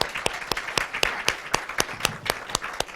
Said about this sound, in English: Let's have a round of applause for our round 2 spellers.